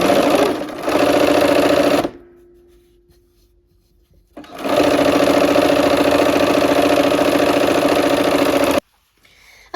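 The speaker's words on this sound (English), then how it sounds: "We're gonna sew this down to our green." A sewing machine stitches quilt block fabric in two loud, steady runs of rapid whirring, separated by a pause of near silence, then stops abruptly.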